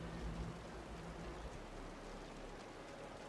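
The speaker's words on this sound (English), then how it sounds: "The rain's getting heavier." Heavy rain pours steadily in the Wuthering Waves game world, a dense, even hiss of falling water with a low rumble underneath, constant throughout and with no voices.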